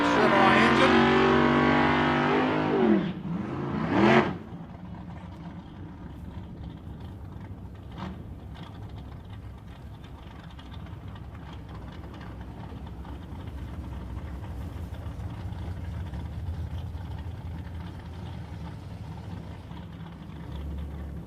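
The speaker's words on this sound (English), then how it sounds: "here with his little yellow Chevrolet Vega. He's running a 406 cubic inch Chevrolet engine." A yellow Chevrolet Vega drag car with a 406 cubic inch Chevrolet engine at a nostalgia drag racing meet, loud as it revs and roars at first, then fading into a distant rumble.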